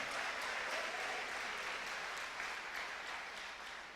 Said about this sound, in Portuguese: Dê uma salva de palmas ao Senhor bem alto.